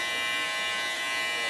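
Electric hair clippers buzz steadily and close up while lining up the edges around the ears on a taper fade haircut, a continuous even hum with no talk.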